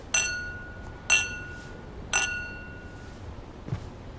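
Glasses clink in a toast at a restaurant dinner, three bright ringing chinks spaced about a second apart, then a softer knock, with no talk over them.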